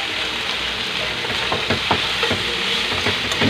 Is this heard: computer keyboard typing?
no